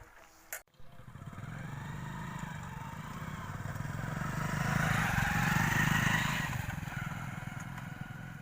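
A motorcycle engine runs nearby with a steady low throb, swelling gradually toward the middle before easing off slightly, preceded by a brief clatter at the start.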